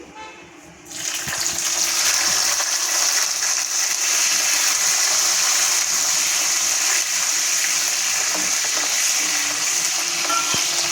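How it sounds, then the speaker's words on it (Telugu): Green chillies frying with urad dal in hot oil for a ridge gourd and tomato chutney, a loud, dense sizzle that starts after a short quiet moment and holds steady, close up, with faint stirring scrapes. "పచ్చిమిరపకాయలు బాగా వేగాలి"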